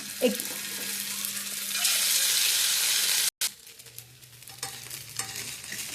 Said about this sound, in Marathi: तर त्याला फ्राय करूया.